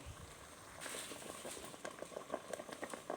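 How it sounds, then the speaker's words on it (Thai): Water bubbles and pops at a rolling boil in a pot of Thai cassia leaf curry with fermented fish sauce, soft but busy, with irregular little bursts and crackles close by. "ครับน้ำเดือดแล้วนะครับ"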